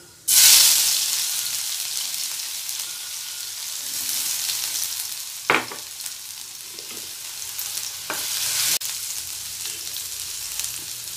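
Ginger garlic paste hits hot oil in a kadai with a sharp loud hiss that settles into a steady crackling sizzle, broken by a few scraping stirs; no voices.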